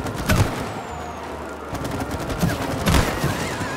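Rapid gunfire from moving and shooting in the co-op video game It Takes Two, with bursts of shots and booming impacts crackling steadily throughout, loud and close with no talking over it.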